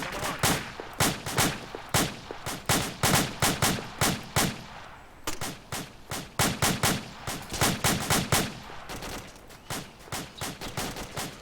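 Loud, near gunfire from a military video game fireteam drill, rapid repeated bursts of shots running steadily across the whole stretch with only brief pauses, no voices over it.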